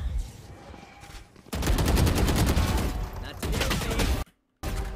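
Rapid automatic gunfire in Valorant rattles in loud sustained bursts, a long continuous spray broken by a brief silence before shooting resumes, with a quieter gap of shots and game noise at the start.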